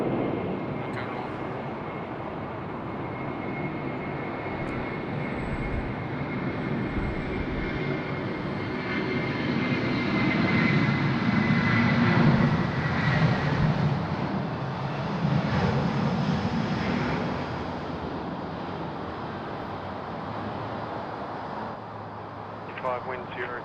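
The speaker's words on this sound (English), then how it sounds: "Enjoy the sounds of the A330 together, shall we?" Airbus A330 engines at Sydney Airport, a broad rumbling roar that swells toward the middle and slowly fades, heard steadily from a distance.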